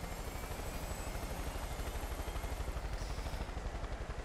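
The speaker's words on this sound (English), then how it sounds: "Andy's literally just going to follow me in a helicopter" Steady rhythmic rotor thump of a helicopter in Far Cry 5, close and continuous with a fast chopping pulse and engine whine, no voices.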